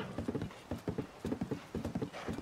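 Hooves clip-clop in a quick, steady rhythm, a horse trotting at a close, even pace with no voices, in the video game The Legend of Zelda: Tears of the Kingdom.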